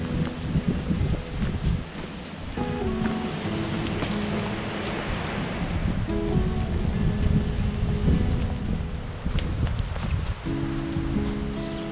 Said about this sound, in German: Der Wind ist sehr böse.